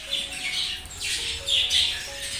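Pet budgies squawk and chirp in a lively, busy flurry of bird calls while feeding on homemade soft egg food, the bright calls overlapping close by without any talk.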